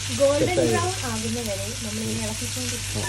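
Chopped onion and green chili frying in a pan for a traditional Kerala home dish, a steady close sizzle under a voice talking throughout.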